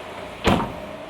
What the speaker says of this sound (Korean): 사이드 스텝까지 있는데 전동식 사이드 스텝이거든요